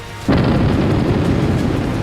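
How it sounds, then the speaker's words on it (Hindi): A blast from a US military live-fire exercise near Venezuela hits abruptly and is followed by a sustained, loud, rumbling roar that carries on for about two seconds. "युद्धाभ्यास में लाइव फायरिंग चल रही है। वेनेजुएला के बेहद करीब धमाके हो रहे हैं।"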